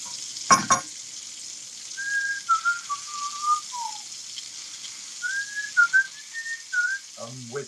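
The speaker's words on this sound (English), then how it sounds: "I'm whistling the Odd Couple too" A person whistles the Odd Couple theme in a home kitchen, tune phrases rising and falling clearly over the soft steady sizzle of sausage gravy cooking.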